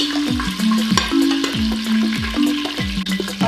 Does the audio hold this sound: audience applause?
no